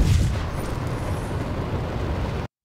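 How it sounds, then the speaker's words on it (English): A fire gem game sound effect sequence: a loud, dense roaring burst like a fiery explosion, sustained evenly for about two and a half seconds and then cut off abruptly into silence. "if we play the Fire Gem Player event"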